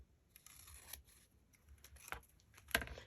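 Scissors cutting craft paper for a mini ephemera holder, a few soft snips followed by one sharp, louder close cut near the end, heard close up with no talking.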